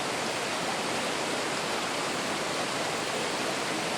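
A stream flows alongside a gravel fire pit, giving a steady, close rushing wash of water with no pauses or voices.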